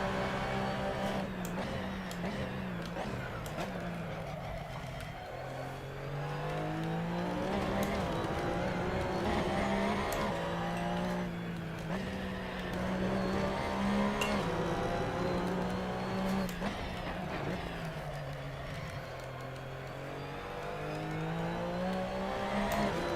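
A Porsche race car in a sim racing championship practice session, its engine whining steadily and rising and falling through gear changes and braking, loud and continuous throughout.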